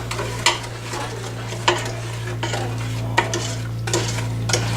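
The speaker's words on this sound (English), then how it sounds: "You keep stirring it all the time you have it on the heat" A butter and sugar fudge mixture is stirred in a pot on an electric stove over medium heat, with regular scraping spoon strokes about once a second over a steady low hum.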